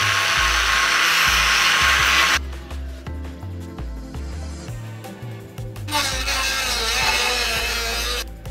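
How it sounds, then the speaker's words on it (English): Angle grinder cutting into the body of an MK5 Toyota Supra in a workshop, a loud steady whine that shifts pitch as the disc bites into the metal, continuous throughout. "The fucking grinder."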